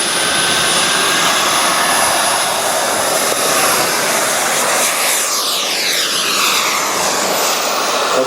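RC model F-89 Scorpion jet flying at an air racing show at Jet Power Messe 2013, its turbine a loud, steady roaring whoosh that rises as it passes close overhead, with a faint high whine and no talk.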